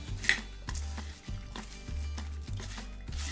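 Utensil scraping and clinking against a bowl while stirring a chocolate mixture for cornflake chocolate balls, with steady repeated strokes every half second or so, close and fairly quiet, no talking.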